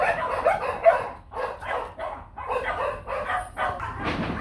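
Several dogs bark excitedly in rapid, overlapping bursts, close and loud, the barking running almost continuously throughout.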